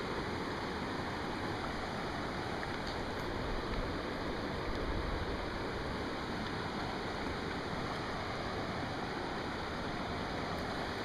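A little waterfall on a Pennsylvania trout stream rushes in a steady, even hiss of falling water, close and unbroken, with no voices over it.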